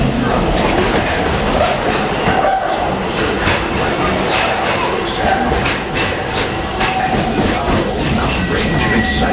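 Walt Disney World Railroad train riding on tracks through Frontierland in the Magic Kingdom, a loud, constant rumble with rhythmic clacking of the cars and faint voices mixed in.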